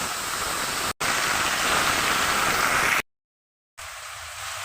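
Chopped bottle gourd hits hot oil in a pan and gives off a loud, dense, hissing sizzle that runs steadily, broken by two abrupt cuts to silence, with no voices.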